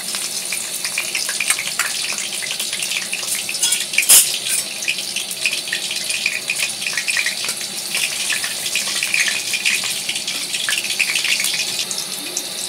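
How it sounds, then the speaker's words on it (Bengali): Curry leaves crackle and sizzle steadily in hot oil in a pan, a dense continuous frying hiss close by with one sharper pop partway through, no voices. "তেলটা গরম হয়েছে বন্ধুরা। সবার প্রথমে আমি দিচ্ছি এতে কারি পাতা।"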